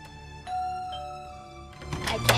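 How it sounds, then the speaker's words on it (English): A doorbell rings with a short chime of clear ringing tones, fairly quiet, followed by a brief burst of louder noise near the end. "can I ring your doorbell again?"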